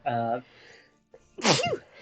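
One loud, close sneeze bursts out sharply, right after a short vocal sound, with nothing else around it.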